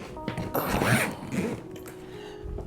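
A zipper on a LUGGEX carry-on spinner suitcase pulled open in one long, slightly rough, ratcheting run lasting about two seconds, heard up close with no talking.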